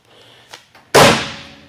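The hood of a 1977 Pontiac Grand Prix with a 301 V8 is slammed shut at a classic car dealer. A couple of light metallic clicks come first, then one loud, sharp bang that rings briefly and fades.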